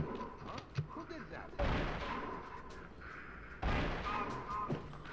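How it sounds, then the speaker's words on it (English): Gunshots in Return to Castle Wolfenstein on PS2: two heavy, booming shots a couple of seconds apart, each followed by ringing decay, over a busy game backdrop with a voice talking. "Just let me shoot you."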